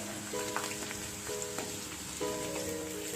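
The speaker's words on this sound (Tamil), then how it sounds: "பூண்டு பாத்தீங்கன்னா இந்த கடலையில கொஞ்சம் ரோஸ்ட் ஆகட்டும்." Crushed garlic roasts in hot oil in a pan, giving a soft, steady sizzle and crackle with scattered pops, close by and moderately quiet, with no talking.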